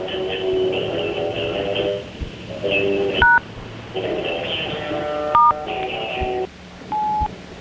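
Telephone keypad tones on a voicemail system, a series of short dual-tone beeps and held tones mixed with recorded system voice prompts, fairly clear and close.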